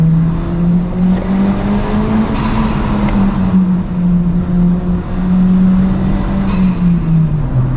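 A Honda Civic Si with its modern B-series-style engine drives along, the motor holding a steady, close, continuous drone whose pitch rises and dips slightly as it pulls.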